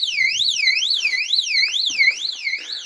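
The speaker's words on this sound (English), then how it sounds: "My security alarm, as you can tell, it will go off every time I go around." A home security alarm wails outdoors in a rising and falling electronic siren, sweeping up and down steadily at a moderate distance, alone without voices.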